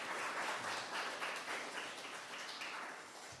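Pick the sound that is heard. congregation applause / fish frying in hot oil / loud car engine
congregation applause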